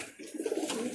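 Pigeons belonging to a fancier in Ras Al Khaimah, UAE, give a brief, soft cooing phrase at close range, alone.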